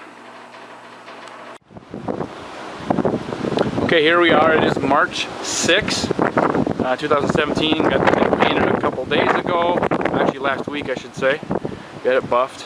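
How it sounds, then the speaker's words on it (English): Someone talks outdoors beside a 1977 Chrysler Cordoba under restoration while strong gusts of wind buffet the microphone, producing a constant rumbling roar under his voice. "I must apologize for the wind, the noise it's creating, I'm sure."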